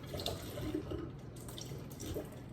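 Distilled water runs quietly over surgical scissors as they are rinsed, a faint, soft trickle and patter of water from a tap, steady and without voices.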